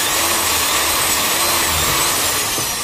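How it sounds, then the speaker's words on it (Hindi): Electric drill boring a hole through a printed circuit board between its traces, a steady loud whirring hum that holds the whole time without pause. "सुराख मार रहा हूँ इसके बीच में, पीसीबी के दोनों बीच में, प्रिंट के बीच में"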